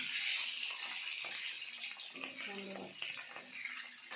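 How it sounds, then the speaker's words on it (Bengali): Eggs sizzle and crackle in hot oil seasoned with turmeric, a steady broad frying hiss with faint stirring close by; no one speaks. "দিলাম ডিমগুলো সব, ডিমগুলো দিয়ে একটু ভেজে নেব।"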